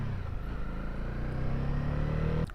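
Motorcycle engine droning steadily at cruising speed during a short ride, a continuous low hum with a faint rise in pitch, ending in a brief buffeting gust near the close.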